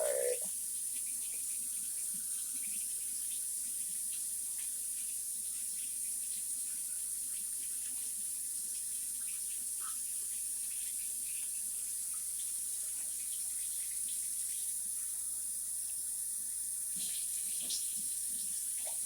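Water is poured into a measuring cup to add to boiling country-style ribs, making a steady, continuous splashing stream that runs unbroken for the whole stretch at moderate, close loudness.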